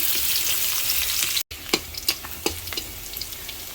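Chopped onion hits hot oil in a wok with a loud continuous sizzle. After a brief cut, the sizzle carries on with sharp scraping knocks from stirring.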